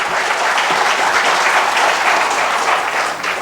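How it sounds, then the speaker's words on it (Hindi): Audience applause welcoming panelists at a rural development colloquy in Ranchi, India: a dense, steady wash of many hands clapping, loud and close, holding even through the whole stretch with no talk over it. "एक बार फिर से हमारे पैनलिस्ट का स्वागत करिए आप तालियां बजाकर।"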